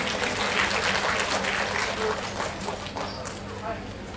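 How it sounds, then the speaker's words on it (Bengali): An audience clapping at a welcoming ceremony where guests receive badges and shawls, a dense, even spread of applause throughout with a voice speaking over it. "একটা জোরে হাততালি হয়ে যাক।"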